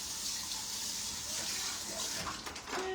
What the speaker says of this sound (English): Let me just quickly give my little salmon a little rinsey rinse over here.